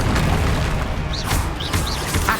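A Confringo fire spell explodes in Hogwarts Legacy, a low booming burst under a dense, steady wash of game noise, with brief whooshing magical streaks flaring during the blast.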